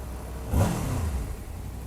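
Street traffic with a single car passing close by, its engine swelling briefly to a loud whoosh and then fading back into a steady road rumble.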